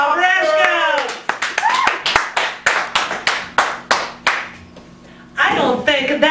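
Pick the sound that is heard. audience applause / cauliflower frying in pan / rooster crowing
audience applause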